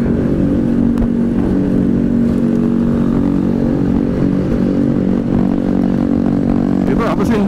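A noisy motorcycle without an exhaust muffler drones steadily from behind on a long-distance ride from Jakarta to Cipanas, a constant low rumble that stays loud throughout.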